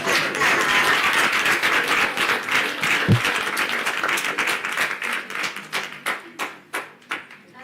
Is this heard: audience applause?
yes